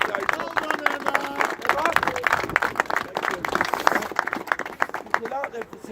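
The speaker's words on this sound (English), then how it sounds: "So I'd ask you to round of applause for the police liaison." Crowd applause and scattered clapping for police liaison officers at a street protest, a dense, steady patter of many hands with a babble of voices underneath throughout.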